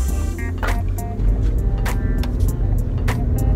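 High-horsepower street cars, Toyota Supras, S2000s and BMWs, at a RealStreet event in Florida, a deep continuous engine rumble with sharper passing bursts as several cars drive by nearby.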